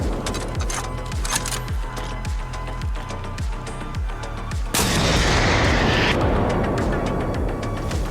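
Rocket strike in Battlefield hitting a vehicle, a loud booming blast after a run of rhythmic mechanical thumps, with a hissing burst and then a sustained rumbling aftermath.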